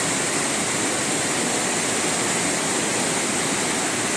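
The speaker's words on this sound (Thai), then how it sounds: "น้ำแรงมากเป็นล่อง ยาวไปนู่นนะครับ" A strong, fast-flowing stream in a forest gives a loud, continuous rushing hiss of water close by. The broad, even roar holds steady throughout with no voices.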